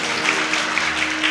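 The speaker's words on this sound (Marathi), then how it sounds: "बाबांसाठी सुद्धा जोरात टाळी वाजवा" A short burst of applause at a Marathi kirtan gathering, dense clapping with faint voices underneath, steady and near for just over a second.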